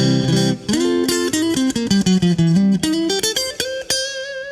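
Stratocaster front single-coil pickup on a clean tone, playing a quick melodic run of plucked single notes with bright, ringing harmonics, close and clear with no talking.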